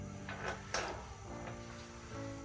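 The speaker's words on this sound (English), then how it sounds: "Nice glass acrylic door." A glass acrylic bathroom door in a cruise ship cabin slides and bumps, a few soft scraping swishes and a light knock close by, over a faint steady hum.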